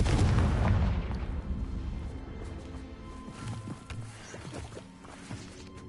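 Fire spell explosions in the video game Hogwarts Legacy, with a heavy booming blast up front that rumbles and fades into smaller crackling pops and thuds.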